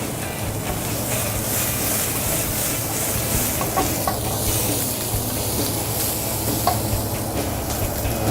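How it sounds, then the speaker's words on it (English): Boiled local Negros beef frying with curry spices and curry leaves in oil: a loud, continuous sizzle with stirring scrapes and clatter, close up and steady throughout. "We're going to put the beef in now"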